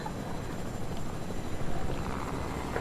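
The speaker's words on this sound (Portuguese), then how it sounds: "Em cima de um helicóptero, velho." Helicopter rotor drone from a video game, a steady broadband whir running continuously at moderate level with no speech over it.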